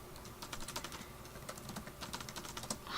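Quick, close clatter of fingers on a computer keyboard, a steady patter of soft keystrokes lasting a few seconds with no speech.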